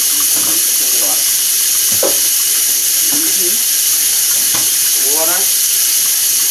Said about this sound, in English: I need some water now.